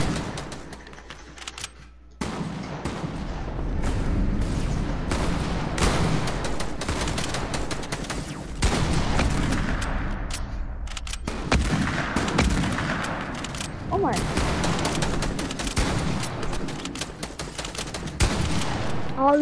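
Gunfire from a hunting rifle in the video game Fortnite: dense, loud volleys of shots that run almost continuously after a brief quiet opening, with short sharp cracks breaking through a noisy battle backdrop.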